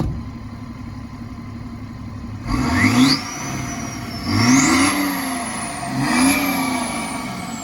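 A tuned BMW X5 35d diesel with a deleted exhaust revs three times at a steady pace, each rev climbing with a whining turbo-like whistle over a low, rumbling idle, close by and with no voices.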